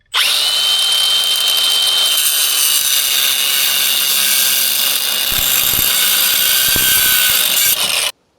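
A power tool cuts through stuck u-joints on a drive shaft with a loud, continuous high-pitched whine and grind that holds steady for about eight seconds, close by, then cuts out abruptly.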